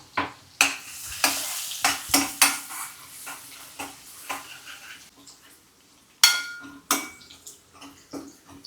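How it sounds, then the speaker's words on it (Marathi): Crushed garlic and green chilli sizzle in hot oil in a pan while a metal spoon stirs and scrapes, producing sharp clanks in an irregular rhythm over a soft frying hiss. "तेल गरम झाल्यावरती स्नेहाने ठेचलेला लसूण आणि मिरची ऍड केलेली आहे"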